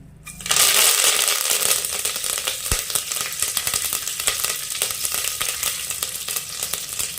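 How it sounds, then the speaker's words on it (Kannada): Curry leaves hit hot oil for a chilli chicken gravy, a loud, steady frying sizzle bursting in after a brief quiet start and crackling continuously without voices. "ಎಣ್ಣೆ ಹಾಕಿದ್ದೀನಿ ಇವಾಗ ನಾನು ಇದಕ್ಕೆ ಕರ್ಬೇವನ್ನ ಹಾಕ್ಕೊಳ್ತೀನಿ"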